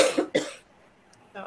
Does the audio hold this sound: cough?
yes